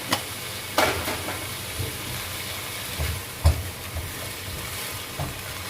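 Spinach stir-fries in a pan with a steady soft sizzle. A few scraping stirs and light clanks of the utensil break through it.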